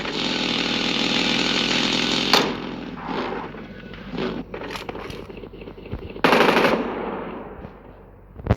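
An M249 light machine gun in PUBG Mobile fires a long sustained burst, then several shorter bursts and single shots, loud and close, with a second heavy burst near the end.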